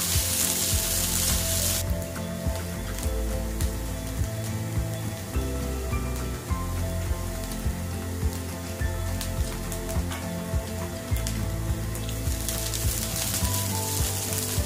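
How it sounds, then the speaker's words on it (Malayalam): Cauliflower rice frying in a wide, flat pan for a keto cauliflower lemon and tomato rice, giving a steady, loud close-up sizzle that runs without pause, with a sharper hiss from about two seconds on and no talking. "നേരത്തെ പറഞ്ഞ പോലെ പരന്ന പാത്രത്തിലാണ് ഇങ്ങനെ വറുത്തെടുക്കേണ്ടത്."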